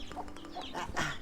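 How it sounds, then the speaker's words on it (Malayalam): A hen with her chicks on a Himalayan trekking trail near Lukla, Nepal, clucking in short repeated bursts close by, with thin chick peeps mixed in over light background noise. "നമ്മൾ ഒരു കോഴിയും കുഞ്ഞുങ്ങളൊക്കെ ആയിട്ട് ഇങ്ങനെ വരാം."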